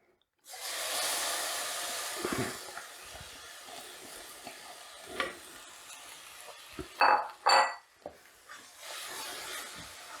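Limes being stirred into lime pickle in a pot: close, wet scraping and mixing sounds with a few sharper clinks and knocks from the spoon against the pot.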